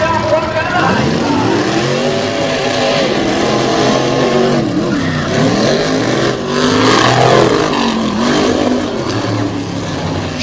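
Monster trucks in a Ford versus Chevrolet matchup, round one at a Monsters vs Megas event in West Lebanon, roar and rev continuously at high volume, their engine notes rising and falling as they race, with an announcer's voice over the din.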